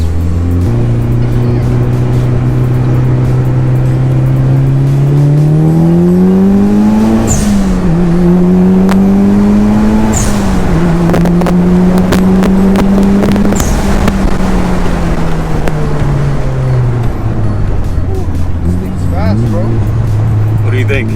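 A Mitsubishi Lancer Evolution IX on a dyno revs hard and loud through a long pull, rising in pitch, shifting, climbing again, then winding down, with a few sharp pops along the way.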